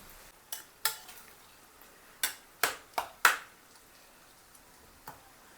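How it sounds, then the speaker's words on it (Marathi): Mutton kheema broken apart with a spoon or spatula in a pan while tomato roasts nearby, heard as a few separate sharp scraping taps, loud and close, with quiet gaps between. "टोमॅटो तिकडं भाजतोय तोपर्यंत हा खिमा फोडून घ्यायचा."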